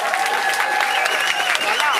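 A crowd claps steadily and loudly throughout, a dense, continuous wash of applause with some cheering voices mixed in.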